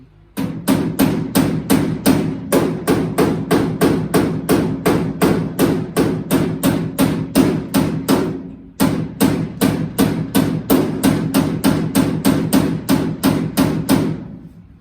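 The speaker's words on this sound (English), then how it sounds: "I just used a hammer and pliers and just kept knocking and squeezing" A hammer strikes a classic British sports car's body metal at the A-post in a fast, steady series of sharp clanging knocks, close and loud, pausing once briefly before the rapid pounding resumes.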